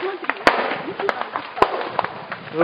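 Shelling of homes near a school in an urban area, sharp gunshot-like cracks and bursts going off irregularly at mid distance, with people talking throughout.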